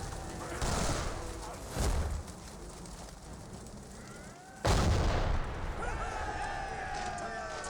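Empire artillery fires in the Warhammer: Mark of Chaos battle game, with two loud booming blasts rising out of a continuous battlefield din while voices call out over the noise.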